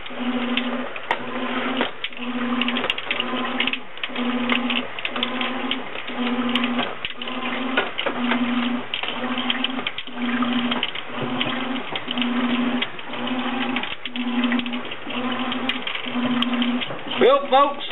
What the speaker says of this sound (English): Your waterless whirlpool washing machine.